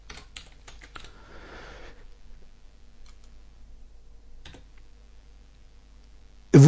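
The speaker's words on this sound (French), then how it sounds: "je tape à la suite, hein, au kilomètre" Fast typing on a computer keyboard for a Moodle database, a quick flurry of close clicking keystrokes, then sparse isolated taps over near silence, ending in a sudden louder thump.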